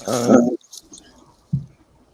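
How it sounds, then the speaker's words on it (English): A dog gives a loud, whiny bark-like vocalization, then a second shorter yelp about a second later, with little else around it. "Oh, it's a dog."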